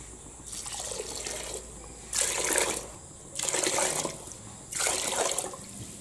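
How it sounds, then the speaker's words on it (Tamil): Water poured from a cup into a pot of rice and dal, sounding as a few separate pours of a second or so each with short pauses between, close and fairly soft, no talking. "இப்போ வந்து ஆறு கப்பு தண்ணி சேர்த்துக்கலாம்"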